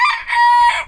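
A rooster at the zoo in Târgoviște, Romania, crows once, loud and close, a short, bright, rising-and-holding cock-a-doodle-doo heard alone.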